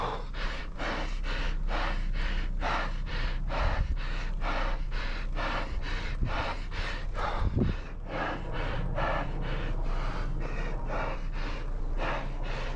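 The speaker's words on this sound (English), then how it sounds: "this is still puffing and panting up the top of the hill" A cyclist climbing a hill puffs and pants hard in a steady, rhythmic stream of loud breaths, close to the microphone, with constant low road and wind rumble beneath and no talking.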